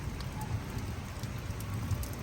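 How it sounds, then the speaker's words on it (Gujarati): Heavy rain pours steadily during a storm in Banaskantha, Gujarat, a dense continuous hiss of drops hitting surfaces with no voices. "વાવાઝોડા સાથે ધોધમાર વરસાદ બનાસકાંઠામાં"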